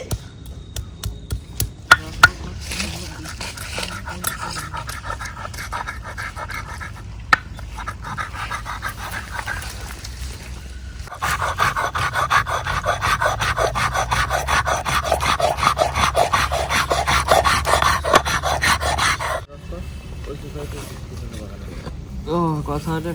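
Spices being ground on a stone slab with a stone roller (shil-nora), a repeated rasping scrape in rhythmic strokes, faster and louder in a steady stretch midway, with occasional knocks.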